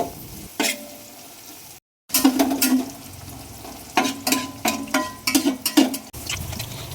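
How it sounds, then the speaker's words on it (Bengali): Sliced onions fry in a pan for birista for a homemade chicken biryani, a steady sizzle broken by repeated scraping stirs, with one brief silent gap early on. "তারপর এখানে বেরেস্তাটা ভাজা হচ্ছে খুব"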